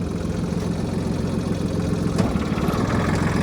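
Mitsubishi MTR-300 mini tractor engine running in third gear, its maximum speed, with the driveshaft and blades turning; a continuous loud, even diesel rumble with a slight knocking vibration, close by and alone.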